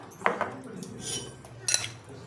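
A spoon scraping and clinking against a metal pot while jackfruit biryani is mixed, a few sharp close metallic knocks over a quiet background.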